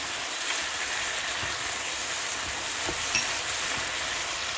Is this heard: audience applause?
no